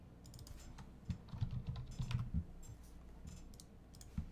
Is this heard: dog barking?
no